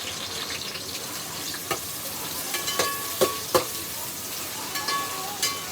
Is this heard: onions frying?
yes